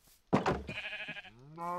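Sheep in the Minecraft video game bleat twice in quick succession, clear and close, with a short wavering cry followed by a rising, tonal bleat.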